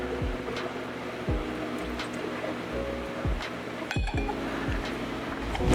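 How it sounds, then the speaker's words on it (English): Whiskey poured into a glass, with a steady close pour and scattered clinks of glass over a constant background hum. "Let's get a little of this whiskey in this glass."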